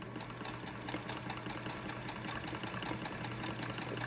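Old sewing machine stitching a straight line across the bottom of a fabric face mask, a steady fast mechanical whir with rapid needle ticks, close and moderately quiet, no talking.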